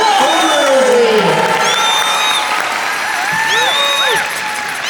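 Convention crowd at a fursuit dance competition applauding and cheering loudly, with whoops and high shouts rising over dense clapping throughout.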